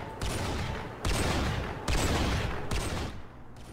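Sustained bursts of gunfire from the Rimworld video game, dense rattling fusillades in four long loud stretches separated by brief dips, continuous and close with no talk.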